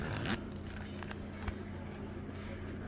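A zipper slides open up close, a short scraping rasp with a few small clicks, then quiet handling noise.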